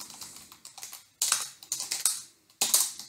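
Quiet, close typing on a computer keyboard at a desk, a quick irregular run of light key clicks with a few louder bursts of keystrokes.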